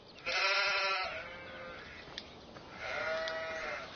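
Two drawn-out sheep bleats in Farming Simulator 17, the first louder and wavering, the second a little softer after a short pause, over a faint steady background hiss.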